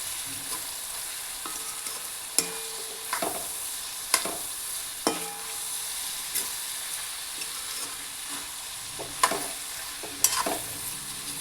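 Cauliflower curry frying with homemade masala in a pan, a continuous soft sizzle and hiss with occasional sharp clicks and scrapes from a stirring spoon, close up and without speech.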